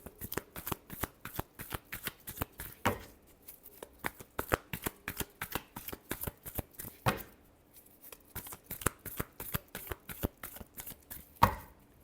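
Tarot cards shuffled by hand in quick riffling bursts, crisp dense flicks in several rapid runs separated by brief pauses, close and fairly quiet with no talking.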